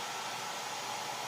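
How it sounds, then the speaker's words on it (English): A bonnet hood hair dryer runs with a steady, loud, unbroken whoosh and a faint tonal hum, constant from start to finish with no voices. "that is the hair dryer"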